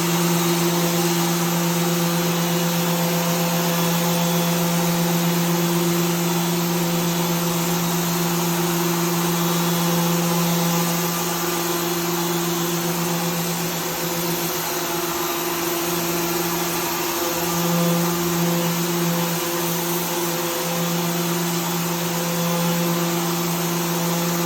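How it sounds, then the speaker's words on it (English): A Festool CT26 dust extractor runs with a steady, loud motor whine under an electric sander working wood, the combined drone continuous and close throughout, with no speech. "we'll just do a quick sanding and show you how that works"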